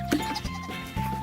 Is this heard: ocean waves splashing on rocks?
no